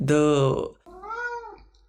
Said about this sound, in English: Did you hear him meow?